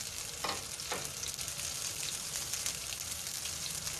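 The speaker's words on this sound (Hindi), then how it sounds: "बंद गोभी को तो हमने बहुत लाइट सा सौते करना है, बिल्कुल हल्का सा, ज़्यादा नहीं पकाना।" Cabbage for chowmein sautéing lightly in a hot pan, a steady close sizzle with a couple of brief stirring scrapes early on, with no voices.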